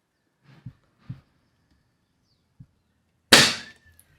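A Cometa 300 air rifle fires once with a sharp, loud, close crack and a brief ring, after a few soft handling clicks in near silence.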